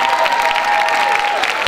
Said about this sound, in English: Let's give a round of applause for all those guys that made this possible.